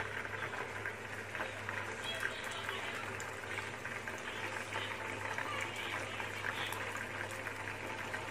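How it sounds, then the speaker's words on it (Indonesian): Tofu Cheetos, a crispy tofu snack, sizzle in hot oil with a steady, dense crackling and bubbling fry that holds constant throughout, close and moderately loud with no voices. "Nah, ini minyaknya sudah panas. Sekarang kita akan goreng."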